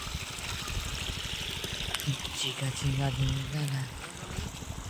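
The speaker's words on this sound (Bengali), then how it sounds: "টেনে জলটা দেওয়া হচ্ছে মেশিনে" Water gushes steadily into a pump machine, making a continuous splashing pour with a voice talking partway through.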